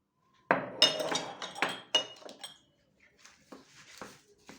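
Kofta meat being mixed with chili, black pepper and coriander in a bowl, heard as close, irregular clinks and scrapes of utensils against the dish, loud at first and then quieter, with no talking.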